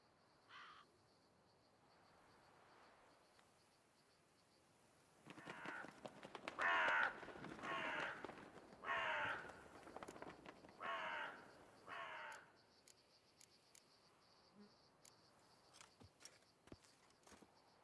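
Ravens caw in The Witcher 3: Wild Hunt – Blood and Wine, a run of loud, harsh calls in the middle set between quieter stretches of faint in-game ambience and footsteps.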